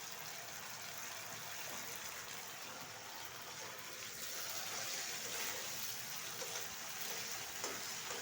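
Water is poured into a pan of frying koi fish curry, making a steady, dense hiss and sizzle that runs continuously throughout at moderate volume.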